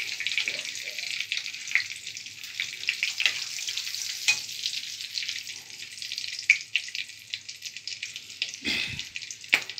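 Cinnamon, cloves and cardamom sizzling in hot butter, a bright steady hiss with small popping crackles and a few stirring knocks, close and loud, with no voices.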